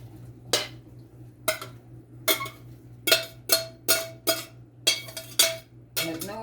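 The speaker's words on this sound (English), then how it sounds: "That noise you hear is me in the sink with this meat." Dishes and pots clattering in a kitchen sink while meat is drained, a series of about ten sharp metallic clanks spaced roughly evenly, close and fairly loud over a low steady hum.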